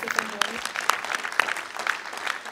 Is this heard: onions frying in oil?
no